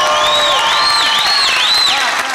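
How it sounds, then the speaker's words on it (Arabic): Studio audience at a TV game show breaks into sustained applause and cheering, a dense steady crowd roar with bright sweeping tones riding over it throughout. "اعطيونا تو 3 سكوند تصفيق على فاطمة"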